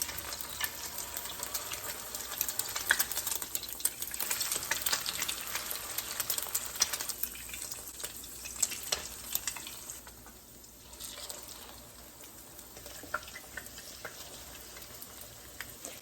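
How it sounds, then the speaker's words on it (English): Egg-dipped slices of Portuguese sweet bread fry in a pan with a continuous crackling sizzle, close and moderately loud, easing slightly for a moment before picking back up. "Now I'm gonna fry them on each side until they're lightly golden brown"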